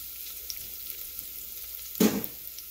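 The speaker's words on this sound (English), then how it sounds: "So I'm going to saute the garlic first" Garlic sizzles in hot oil in the bottom of an Instant Pot, a steady close frying hiss that swells into a louder burst of sizzling and stirring near the end.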